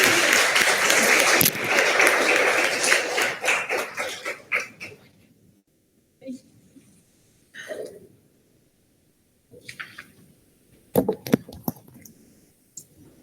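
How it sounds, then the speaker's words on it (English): Applause from the audience at a university undergraduate research awards ceremony, a dense burst of clapping that fades out after about four seconds, followed by quiet room noise and a few scattered sounds. "So one final round of applause for Astrid today"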